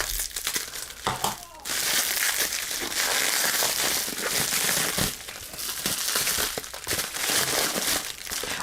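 Bubble wrap and other packing material being unwrapped, with close, continuous plastic crinkling and crumpling that runs for the whole stretch with a few brief dips.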